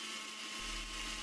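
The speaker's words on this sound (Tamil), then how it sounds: "இந்த மாதிரி நம்ம பெப்பர், ஏலக்காய், சுகர் அதெல்லாம் நம்ம இதில் அரைச்சோன்னா நல்லா நைஸாகவே பவுட்ரு பண்ணிடுது" A Butterfly mixer grinder fitted with a blender jar dry-grinds, a high steady whir that holds even throughout and gains a deeper motor hum partway through, heard alone and close.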